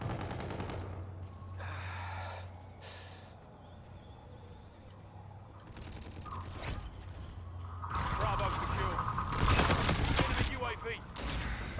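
Gunfire in the Infinite Warfare multiplayer video game, scattered sharp shots and mechanical clicks growing into a louder burst of firing near the end, with a player talking over parts of it.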